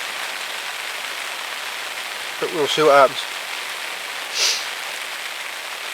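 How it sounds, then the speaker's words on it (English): Steady rain falls throughout at a fishing lake during a pike session, a constant broadband patter with a brief voice speaking partway through. "unless this rain spurs them on"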